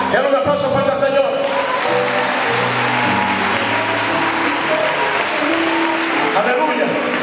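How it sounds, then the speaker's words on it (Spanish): Loud, sustained applause from a large church congregation at an evangelical service, dense clapping mixed with crowd noise and voices, with instrumental music tones running underneath throughout. "Dale un aplauso fuerte al Señor."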